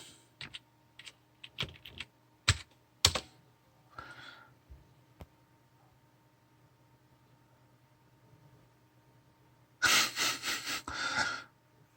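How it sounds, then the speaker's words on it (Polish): Quick bursts of clicking keystrokes on a computer keyboard as a password is entered on a slow-booting PC, scattered taps early on, then a dense loud flurry of typing near the end, close and alone. "Szybko stukamy hasło."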